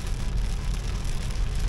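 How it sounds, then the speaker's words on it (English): Heavy rain drumming on a car while hitchhiking in Turkey, heard from inside as a loud, constant rushing patter over a low rumble, with no voices. "It's raining like crazy."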